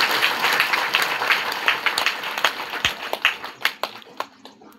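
A gathered crowd of pilgrims and organisers applauds, a loud burst of clapping that thins into scattered individual claps as it fades.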